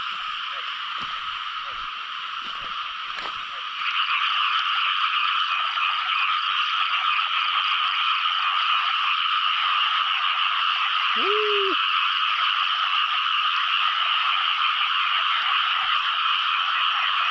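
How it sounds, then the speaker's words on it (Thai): Loud, continuous chorus of frogs croaking at night in a rural field during a frog-catching outing, a dense unbroken drone with a few nearby knocks at first and one brief low call midway. "เสียงกบหองเลย"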